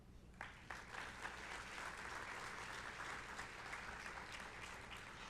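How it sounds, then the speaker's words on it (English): Applause fills a banquet hall at a police and citizens awards dinner, starting with a few scattered claps and swelling into steady clapping from the whole crowd, heard at a moderate distance. "let's give GMA a big round of applause for all that they do"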